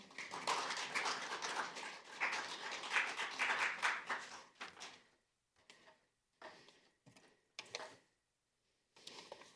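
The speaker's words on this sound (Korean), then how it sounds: "여러분 큰 박수 부탁드리겠습니다" Attendees at a Human Rights Day seminar applaud the keynote speaker, a few seconds of full clapping that then thins into scattered, intermittent claps and handling noises with gaps of quiet.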